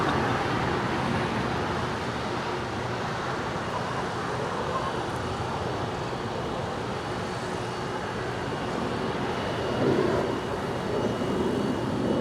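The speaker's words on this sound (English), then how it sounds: "That is a Dassault Falcon 900EX. Landed on the north side." A Dassault Falcon 900EX business jet landing on LAX's north side makes a steady, broad roar that swells slightly near the end, blended with airport and road traffic noise.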